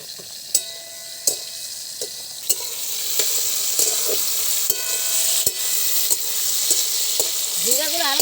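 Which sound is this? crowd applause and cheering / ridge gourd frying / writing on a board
ridge gourd frying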